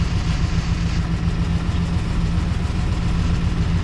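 A 1958 Packard engine idles steadily after warming up, a continuous low rumble with an even hum, close and fairly loud, with no talk.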